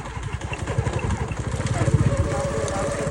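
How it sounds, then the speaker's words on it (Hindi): A motorcycle with a punctured tyre rumbles along a rural road, its engine a steady, pulsing drone with a rough, uneven thump running through it, close and continuous. "पंचर मोटरसाइकिल चला रहे हैं"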